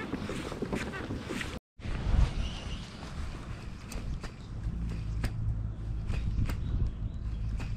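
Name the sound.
strong wind outdoors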